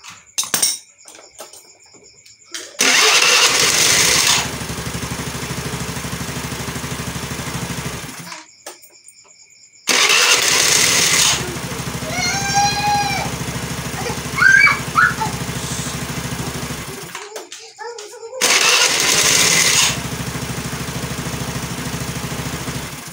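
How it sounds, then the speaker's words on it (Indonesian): A carbureted Honda Vario 110 scooter engine is started in three separate bursts, each running loud and steady for several seconds before cutting off into silence, with faint squeaks over the second run. "Oke, kita akan starter ya."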